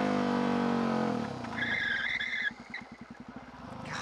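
A motorcycle's rear tire oversteps and slides through a turn, a brief tonal screech layered over a fading engine roar, followed by choppy engine pulses as the bike recovers.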